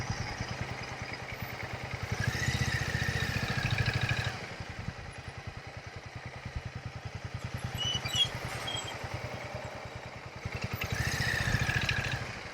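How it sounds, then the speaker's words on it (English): Yamaha motorcycle engine pulsing steadily while riding and short-shifting, with revs rising and dropping between gear changes and a faint clatter over the steady drone. "where I can short-shift the Yamaha for fuel efficiency"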